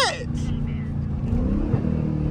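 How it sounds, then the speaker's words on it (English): Dodge Challenger Hellcat revving through a first-gear downshift while driving through downtown Houston, a deep engine blip rising and falling under a voice, with a sharp hiss of air at the start. "Damn, that's a first gear downshift."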